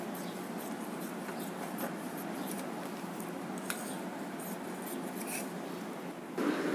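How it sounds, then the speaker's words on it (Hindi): Scissors snip through the hook strip of a size 42 blouse during fabric cutting, giving soft, steady, close crisp cuts and rubbing fabric with no talk. "यहाँ से हमें हुक पट्टी को काट करना है।"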